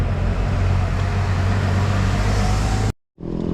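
Heavy road traffic on a highway in the Bicol region, heard from a bicycle, forms a steady loud rumble of passing cars, buses and trucks before a brief dropout cuts it.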